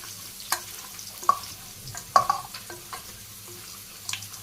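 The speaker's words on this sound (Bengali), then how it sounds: "মাংস ভালো করে আমি মাখিয়ে নিই।" Hands mix chicken meat with soybean oil, green chilies, salt, turmeric and red chili powder, making soft wet squelches and slaps at irregular intervals, a few louder squishes standing out against a quiet room.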